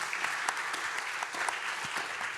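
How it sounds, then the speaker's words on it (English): Audience applause fills the hall at an arts symposium, a steady dense clapping with a few sharper claps standing out, continuous throughout and heard without any talk. "Big applause for Nicolas"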